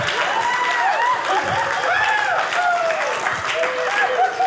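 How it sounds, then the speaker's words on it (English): Comedy club audience at a stand-up special claps steadily throughout, a dense, continuous patter with crowd voices and whoops riding over it. "Y'all better clap y'all hands to that joke."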